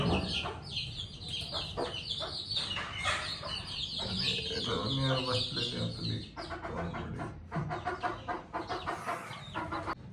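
Hens in a Konkan backyard coop clucking busily and repeatedly, close and lively, with a voice talking intermittently among them.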